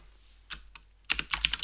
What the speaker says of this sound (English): that's my typing practice for today